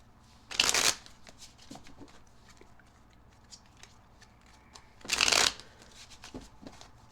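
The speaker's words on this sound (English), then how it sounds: "I'll just shuffle this a few times here." Two brisk bursts of tarot cards being shuffled up close, separated by a few seconds of quiet handling and light rustling.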